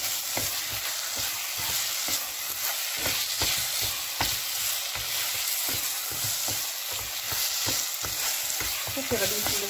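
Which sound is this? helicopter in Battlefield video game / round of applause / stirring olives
stirring olives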